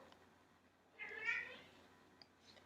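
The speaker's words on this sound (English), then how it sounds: "that's my cat" A cat meows once, faint and somewhat distant, in a quiet room, a single short call with a slight tail, and nothing else follows it.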